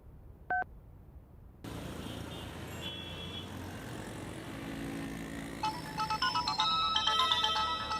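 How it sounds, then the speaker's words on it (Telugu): A mobile phone rings with a repeating electronic ringtone melody, bright stacked tones swelling in the last seconds over a steady low rumble of traffic, after a brief single beep and a quiet start. "రాజా దగ్గర నుంచేనమ్మా ఫోను"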